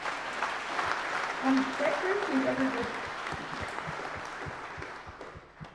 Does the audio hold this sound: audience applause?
yes